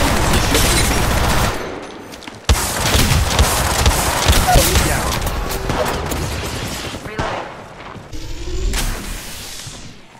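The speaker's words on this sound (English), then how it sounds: "Opening fire on the enemy." Dense video game gunfire rattles almost continuously in rapid automatic bursts with booms and heavy impacts, loud and close, while a voice speaks over the shooting.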